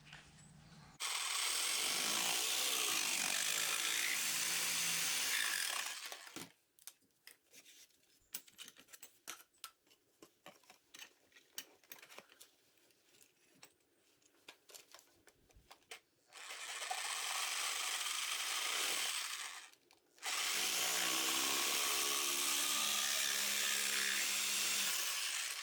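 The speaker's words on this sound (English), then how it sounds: "24 tooth per inch bimetal blade should give us a pretty nice fine cut" Hacksaw with a 24 TPI bimetal blade cutting a metal PTO shaft for a tiller and Kubota BX2360, with long bursts of steady, close, rasping strokes separated by quieter pauses and scattered clicks.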